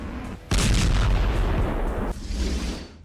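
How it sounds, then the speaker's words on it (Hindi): Heavy explosions from Israeli air strikes in southern Lebanon, a sudden loud blast followed by rumbling, booming reverberation across the whole clip. "एयर स्ट्राइक से फिर थर्राया लेबनान। हिजबुल्लाह पर इजराइल के ताबड़तोड़ हमले।"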